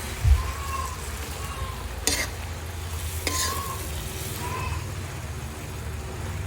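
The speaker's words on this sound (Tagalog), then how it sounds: "igigisa natin sa sardinas" Sardines and home-grown vegetables sauté in a pan, giving a steady sizzle with a couple of sharp utensil clicks from stirring, close and alone.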